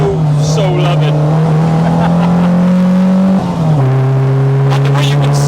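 A Peugeot 205 GTi stage rally car from the 1980s, cammed and carbed, drones loudly from inside the cabin as its engine holds high revs, dips briefly at a quick gear change, then pulls hard again while people talk over it.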